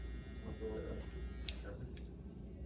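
An electric hair trimmer buzzes steadily at close range during a mullet haircut with fading, a constant low drone that continues beneath people talking throughout.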